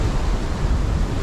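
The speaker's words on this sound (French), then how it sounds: "La vague elle tape, regardez elle tape." Stormy sea surf rolls and roars against the shore, a steady broadband wash mixed with wind buffeting the microphone, loud and continuous with no voices.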